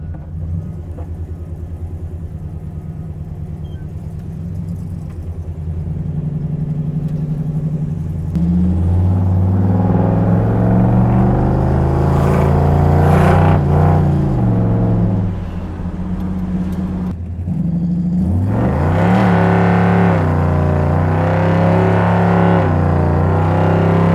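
A 500-horsepower custom 1968 Chevy C10 truck drives off with a loud, deep engine rumble that climbs through several rising revs and gear changes, staying close and steady throughout.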